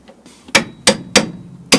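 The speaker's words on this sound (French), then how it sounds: "il faut y aller avec un marteau" A hammer strikes a car suspension ball joint on a control arm, giving four sharp, loud metallic blows at uneven intervals with brief quiet gaps between them.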